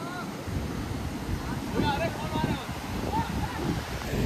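A Himalayan river rushes beside a campsite, a continuous dense roar of flowing water mixed with gusty wind buffeting the microphone, with faint voices in the background.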